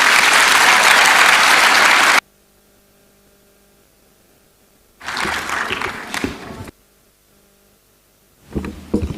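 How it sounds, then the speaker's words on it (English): A conference audience in Zambia claps in a loud, dense burst that cuts off abruptly, then returns in two shorter rounds of clapping separated by near silence. "Give him a round of applause."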